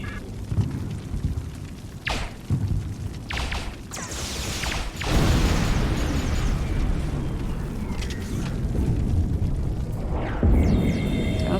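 A force field emitter is blown apart in Star Trek Online, with deep booming explosions and rumbling blasts layered over continuous mechanical combat noise, loud and close, with a few sharp bursts standing out.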